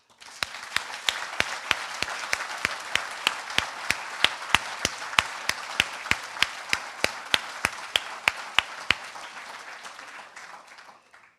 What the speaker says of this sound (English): join me in honoring you with a massive, massive hand of applause